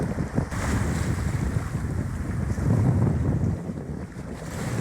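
Strong wind gusting over a lake buffets the microphone with a loud, continuous rumbling roar that swells and eases but never stops; no one speaks.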